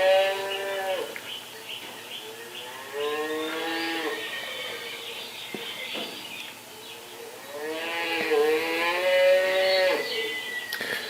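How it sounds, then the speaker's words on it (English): Several cows moo from a sound module on a model railroad layout's cattle pen, in long, low drawn-out calls, one after another with short pauses, fairly close and clear against a quiet background. "we'll have cows mooing"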